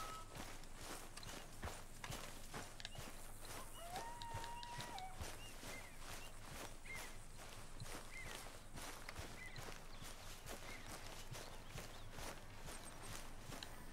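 Horse hooves clip-clop at a steady walking rhythm in Red Dead Redemption 2, soft and low in level, with a faint ambient bed and no talking.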